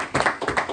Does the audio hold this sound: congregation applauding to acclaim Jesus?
yes